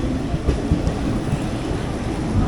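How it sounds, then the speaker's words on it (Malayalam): Superfast express train pulling out of the station, a dense, loud rumble with low wheel and rail noise, steady and close throughout with no voices. "കാര്യം ആ ട്രെയിൻ ഇപ്പോൾ പുറത്തോട്ട് പോകും."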